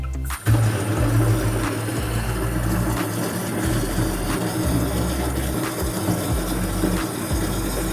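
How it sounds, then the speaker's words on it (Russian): Water pours steadily into a container to top up a sugar mash for home brewing, a continuous close splashing rush with a low pump-like hum beneath. "Доливаем дальше воду до нужного уровня"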